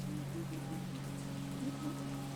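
Steady rain falls on a surface, a dense, even patter and hiss that runs without a break, with a faint tonal hum held underneath and no voices.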